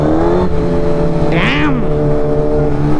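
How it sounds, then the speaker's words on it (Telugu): A Suzuki GSX-R 1000 motorcycle with a full Yoshimura titanium exhaust, titanium headers, a long can and a carbon tip runs steadily with a loud, continuous engine drone, and a brief rising rev swells midway through. "దీంట్లో ఫుల్ సిస్టమ్ ఉంది యోషిమురాది, titanium headers and carbon tip exhaust, long can ఉంది అందుకే సౌండ్ ఎక్కువ రావట్లేదు"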